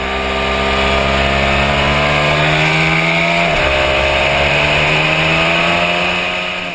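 A Ducati 1199 Panigale twin-cylinder motorcycle engine revs loudly up toward redline with a rising, harmonic-rich roar, briefly dipping at a shift before climbing again, close and alone.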